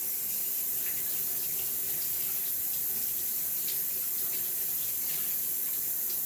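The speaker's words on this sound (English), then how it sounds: "Remember to always wash your celery." A kitchen tap runs steadily while celery is washed under it for shrimp macaroni salad, a constant close hiss of water into the sink with faint splashes and no break.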